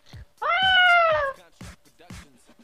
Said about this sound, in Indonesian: Oh, takutnya ntar ada kucing. Bunyi lagi tadi.